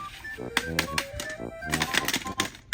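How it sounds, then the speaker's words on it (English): Quick mechanical clicks and clacks from a Hornby Thomas clockwork toy train turntable tap in an uneven rhythm, mixed with short tonal beeps and chimes, fairly close and moderately loud. "It makes a little clicking sound every time it hits like a piece of track."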